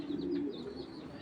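A pair of grizzle pigeons, red-eyed club racing birds, coo softly and steadily close by, with a faint chirpy tone above the low murmur.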